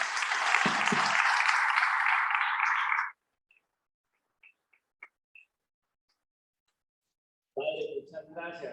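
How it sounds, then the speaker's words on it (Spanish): Church congregation applause during a religious workshop, a loud dense burst of clapping lasting about three seconds before cutting to near silence with a few faint clicks, then talking resumes. "Démosle un aplauso al Señor"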